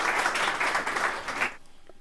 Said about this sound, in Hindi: एक बार जोरदार ताली से आप लोग स्वागत करते हैं।